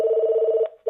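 A telephone rings on a podcast's phone lines, a loud, close electronic trill that warbles rapidly, breaks off briefly and then starts again, with no talk over it.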